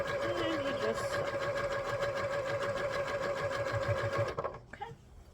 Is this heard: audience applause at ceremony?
no